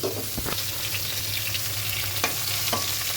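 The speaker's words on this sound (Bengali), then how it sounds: "প্রথমে রসুনগুলো তেলে দিয়ে দিলাম, এরপর পেঁয়াজ দিয়ে দিচ্ছি" Garlic and onion fry in hot oil with a close, steady crackling sizzle, punctuated by a few sharp spoon taps and scrapes against the pan.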